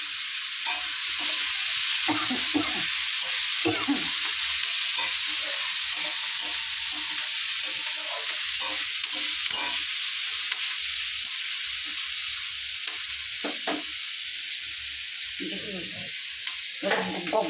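Onions and spices sizzle steadily in hot oil in a pan for a spicy loita (Bombay duck) fish curry, a constant close frying hiss with occasional stirring scrapes and brief voices in the background.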